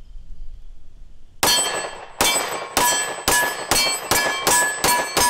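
A Smith & Wesson M&P M2.0 10mm pistol fired rapidly at about 8 yards, a string of roughly eight sharp, loud, evenly spaced shots after a quiet start.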